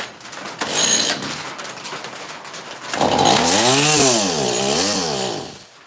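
A chainsaw cuts into wood while carving a morel mushroom hugged by a gnome, its engine loud and close, rising and falling in pitch as it bites and revs through the cut.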